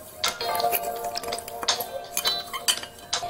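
Spoon clinking against a bowl while lemon juice is stirred into orange food colour for orange popsicles, light rapid metallic chinks, close and clear with no talking.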